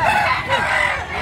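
A native rooster crows loudly and close at a poultry market in Baliwag, Bulacan, with clucking and other birds behind it and a faint voice in the background.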